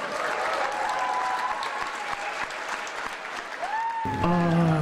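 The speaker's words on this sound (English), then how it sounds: "Let's have a big round of applause for Thailand!" An audience at a chefs' award ceremony claps a sustained round of applause for the Thai winners, steady and fairly distant, with a voice coming in over it near the end.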